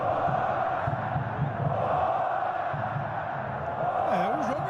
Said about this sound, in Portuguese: São substituídos para que recebam os aplausos da torcida.